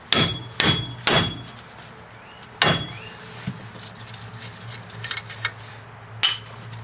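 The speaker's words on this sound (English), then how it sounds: "whack it with the hammer." Several sharp, ringing hammer blows on metal while replacing front struts on a 2000 Chrysler 300M, spaced irregularly with quiet pauses between them, close by.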